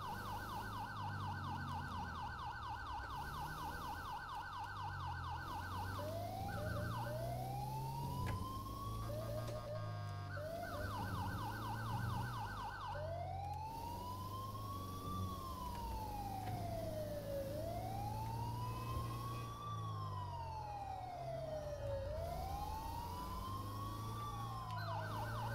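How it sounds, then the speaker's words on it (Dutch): Ambulance and emergency vehicle sirens in a Belgian GTA 5 ambulance mod, cycling through tones: a rapid high-low yelp, then repeated rising-and-falling wails, loud over a steady engine hum with no talk. "Beetje spelen met sirenes,"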